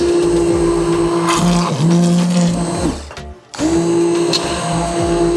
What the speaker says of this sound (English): the difference between a lower end immersion blender versus a higher end one